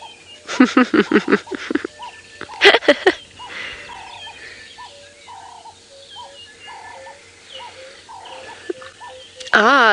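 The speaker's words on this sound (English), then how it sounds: "you want to know what bird sounds we're hearing in the background, and I have to say there's lots of sound happening at the moment. There is a woodland kingfisher," Dawn chorus on a safari drive, with several birds calling in the bush including a woodland kingfisher, loud sharp bursts early then a steady run of repeated clear whistled calls at moderate distance, with some talk mixed in.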